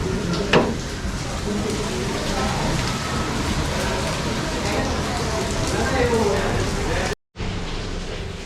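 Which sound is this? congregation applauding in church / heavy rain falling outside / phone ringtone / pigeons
heavy rain falling outside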